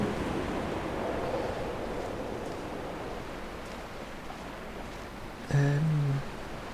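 Sea waves wash along the seaside in the video game Dear Esther, a soft steady surf hiss with gentle wind, fairly faint and continuous, with a brief low tone near the end.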